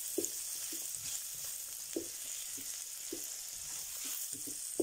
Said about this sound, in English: you're going to saute your onions.